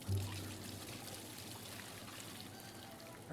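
Water poured from a pail into a tank in the video game Aquarist, a soft continuous trickling stream, quiet and steady throughout.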